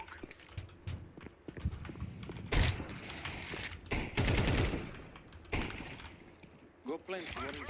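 A shotgun fired in a video game, heavy blasts and rapid gunfire bursts in a busy mix, loud and close, with a voice talking over parts of it.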